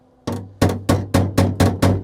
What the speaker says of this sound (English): And what I'll do is I'll go in and hammer it between